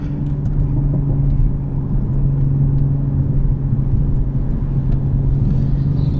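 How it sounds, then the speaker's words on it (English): A steady, loud low exhaust burble of a 2020 Toyota Supra 3.0 cruising on a back road, heard up close, with a deep continuous drone throughout and no voices. "The burbles are so loud."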